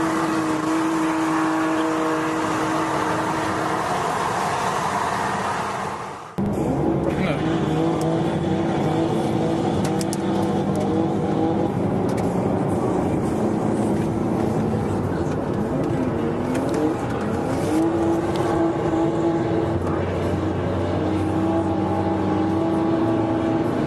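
Drift cars driving hard, engines roaring loudly with tires squealing and skidding continuously, a brief dip and cut partway through before the noise resumes at full volume.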